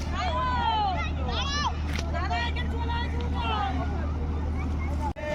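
A motorized wooden country boat (bhutbhuti) chugs past on a river crowded with bathers, its steady low engine drone running beneath constant nearby chatter and crowd babble.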